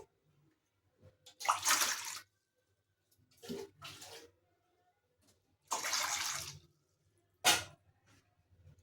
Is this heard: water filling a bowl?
yes